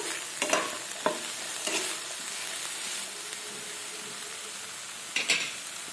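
Steady frying hiss in a pan, broken by a few scraping, clattering strokes of a utensil stirring the food, fairly close.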